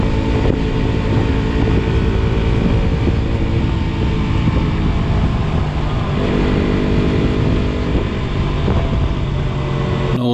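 A KTM RC200 motorcycle engine runs steadily, a continuous droning hum with a strong low rumble and no breaks, loud and close for the full stretch.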